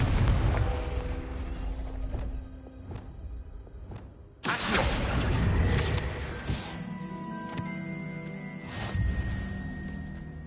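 A Confringo blasting spell explodes in Hogwarts Legacy, a loud booming burst with a sharp whoosh, followed by dense rumbling blast noise and ringing tones continuing for several seconds.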